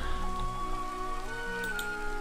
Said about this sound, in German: Na toll, jetzt hat es angefangen zu regnen.